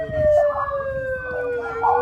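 Sirens wail nearby at a vigil in Washington, DC, a steady rising and falling electronic tone over a low vehicle rumble, with a voice talking.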